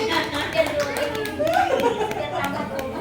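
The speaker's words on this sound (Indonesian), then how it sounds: "tepuk tangan dong buat Bu Iin." An audience at a school gathering claps for a teacher, a steady stretch of scattered applause with some chatter and laughter mixed in.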